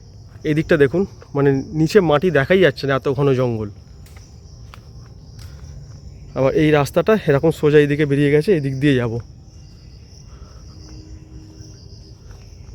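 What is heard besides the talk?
crickets chirping in monsoon garden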